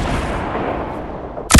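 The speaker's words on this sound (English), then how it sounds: "I'm just firing a bunch of rockets," Rockets firing in the Fortnite battle royale video game give a dense, rumbling barrage of blasts, ending in a sharp, loud burst as another launch hits.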